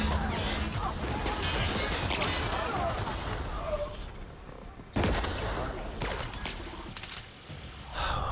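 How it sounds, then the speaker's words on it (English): Sharp gun blasts and crashing impacts in a firefight in The Outer Worlds: Spacer's Choice Edition, several loud cracks clustered near the start and again after a pause midway, with brief voice sounds mixed in. "Let's see how quickly you can adapt to a bullet."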